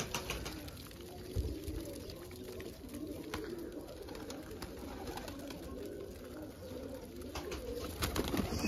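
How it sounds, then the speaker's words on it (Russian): Pigeons released from a dovecote coo steadily in a low, continuous murmur, with outdoor ambience and faint chirps around them. "Поэтому раз в неделю хотя бы надо выпускать тех голубей"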